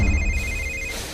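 A telephone rings briefly with a bright electronic trill, close and clear.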